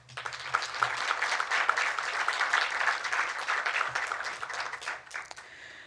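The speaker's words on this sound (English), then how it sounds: "Let's give Chua another hand of applause." Audience at a panel discussion on Hmong artforms gives a warm round of applause, dense and sustained for several seconds, then tapering off near the end.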